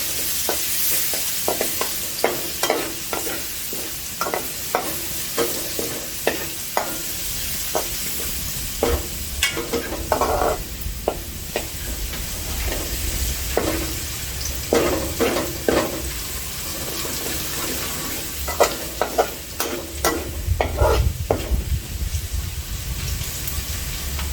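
Thai garlic frying in hot oil over a low flame, a steady crackling sizzle with repeated scraping stir strokes throughout, close and fairly loud with no talking.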